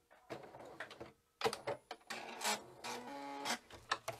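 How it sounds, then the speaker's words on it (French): Regina (Marion, Veritas) sewing machine stitching slowly through thick layered fabric, short uneven bursts of mechanical clatter and rubbing with brief pauses, close and fairly quiet. "Et ma machine, elle ne m'a pas sauté de point. Tout est cousu, j'ai pas mal d'épaisseur."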